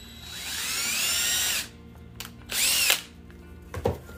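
A power drill boring into a wooden board for a hanging sign, one sustained high whine that winds down, followed by two shorter bursts and a brief clunk.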